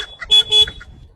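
Two short blasts of a vehicle horn on a roadside, each about a tenth of a second, loud and close with a brief chirp before and after, in an otherwise quiet moment.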